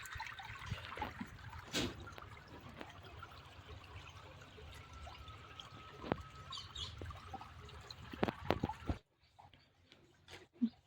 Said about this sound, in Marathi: आपण आता पाणी पाजून घेऊ आपला कॉक चालू करून